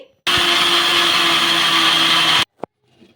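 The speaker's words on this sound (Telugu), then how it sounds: "హాఫ్ కప్పు నీళ్ళు అయితే వేసేసుకొని మెత్తగా మిక్సీ పట్టేసుకోవాలి" A mixer grinder whirs loudly and steadily while blending batter with half a cup of water, running for about two seconds before stopping abruptly, followed by a brief clack and quiet.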